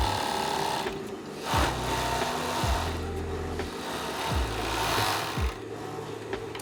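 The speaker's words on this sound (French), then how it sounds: "Ça, c'est une machine overlock" An overlock sewing machine stitching fabric runs with a steady, close mechanical whir, interrupted by several short pitch-sliding bursts as it speeds up and slows, with no talking.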